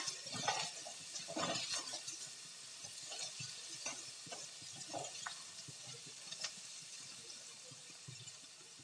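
Finely chopped tomatoes sauté in a pan for dal pakwan, a soft close sizzle with irregular stirring scrapes and light utensil taps, fairly quiet and without talking.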